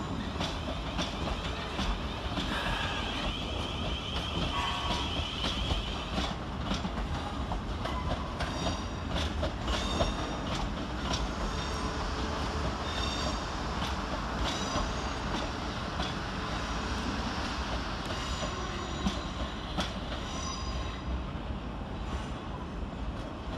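A pair of South Western Railway Class 450 electric units, 450 113 and 450 095, pull out of London Waterloo with a steady loud rumble, rhythmic wheel clatter and faint squeals. No voices are heard.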